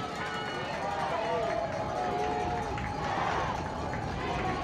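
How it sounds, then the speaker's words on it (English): A varsity high school football crowd of Lake Orion against Clarkston roars steadily in the stands, a dense sustained cheer with whistles and shouts, continuous and fairly loud throughout. "Listen to the crowd."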